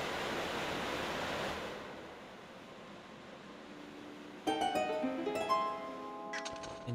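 Rushing water swells in a Zelda Skyward Sword dungeon as the level rises, a broad steady wash that fades down before bright chiming game tones ring out.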